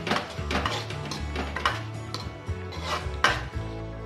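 Cinnamon frying in a pan while cooking a dish of taro and fish head, with metal utensils clattering and scraping against the pan in irregular knocks over a low background.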